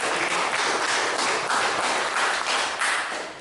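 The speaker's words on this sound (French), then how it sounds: "monsieur Sylvester Takak, s'il vous plaît, applaudissez bien fort." Applause from a café audience for an evening guest, dense continuous clapping at moderate level filling the whole stretch, with no talk over it.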